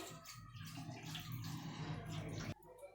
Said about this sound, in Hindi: अब हम इसके ऊपर थोड़ा सा नीम गर्म पानी ऐड करेंगे।